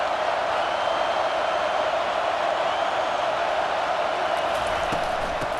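Steady, dense roar of a football stadium crowd during a UNC vs Oklahoma game, rising behind the defense during a red-zone stand; continuous and loud throughout with no distinct peaks.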